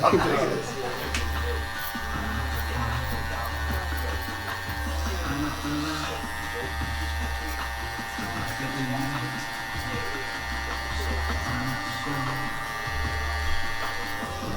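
Electric hair clippers buzz steadily and close while cutting a taper on the side of a client's head in a barbershop. The drone varies slightly as the blade moves, and someone talks over it throughout.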